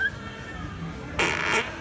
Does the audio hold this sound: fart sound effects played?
yes